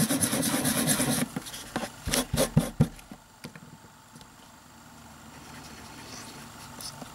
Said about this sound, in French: Donc à chaque fois, bien sûr, il faut nettoyer le tampon.